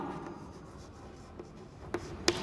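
Chalk or marker writing out an answer on a classroom board, faint scratchy strokes against a quiet room hum, ending with two sharp taps.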